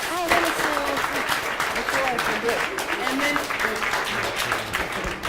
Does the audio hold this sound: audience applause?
yes